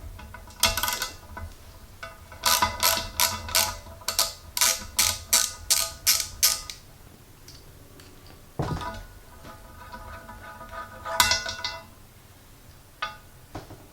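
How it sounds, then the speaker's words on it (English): A ratchet fitted with a 12mm socket loosens the plug core in a TSW Mirabeau aftermarket wheel with rapid bursts of close metallic clicking, then a pause, a clunk and a few more clicks. "we're going to grab a 12mm socket and we're going to start taking this out"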